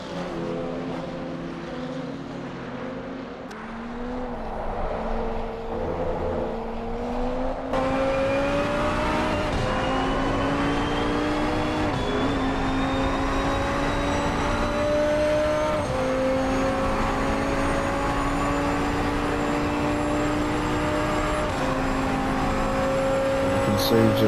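Race car engine droning steadily through a warm-up lap at Paul Ricard in the Assetto Corsa Competizione racing game, pitch climbing and holding with gear changes, loud and continuous, with a commentator talking over it.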